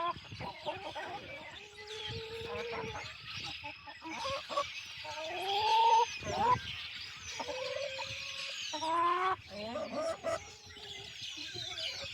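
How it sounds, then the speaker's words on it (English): Chickens on a homestead cluck and squawk in a busy, irregular chorus of short calls, fairly close, with some louder bursts and no talking. "Get out of here, chickens."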